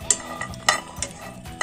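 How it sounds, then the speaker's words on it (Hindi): Cashews dry-roasting in a pan with no ghee, stirred so the nuts scrape and clatter against the metal in short, irregular bursts, close and fairly quiet. "मैंने काजू रोस्ट करने के लिए डाल दिया है"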